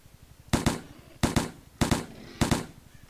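Gunfire in the S.T.A.L.K.E.R. Narodnaya Solyanka mod: four loud, sharp bursts, each a quick double shot, spaced evenly about two-thirds of a second apart over a quiet background.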